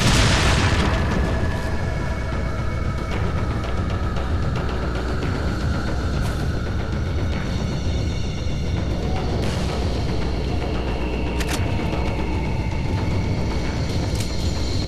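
A dynamite explosion in the Resident Evil 4 video game lands as a sharp boom, then a long, loud, noisy rumble and clatter of game sounds that carries on for several seconds.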